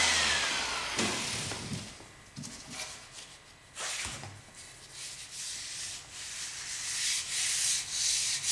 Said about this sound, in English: Okay, it has been sanded down